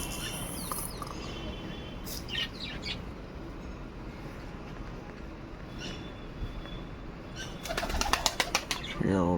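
Pigeons flutter about near a loft, soft bursts of wing flapping and a few chirps over a low outdoor background, with a louder flurry of wingbeats near the end.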